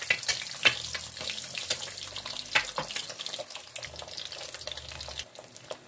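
Egg frying in a pan alongside fried siomai, with a steady crackling sizzle, small pops and scraping clatter close by, and no voices.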